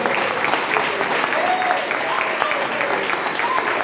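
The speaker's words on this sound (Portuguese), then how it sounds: "Dê a forte salva de palmas para Jesus" Congregation applauding during an evangelical church service in Santo Amaro, a steady wash of clapping from many people, with some voices and shouts over it.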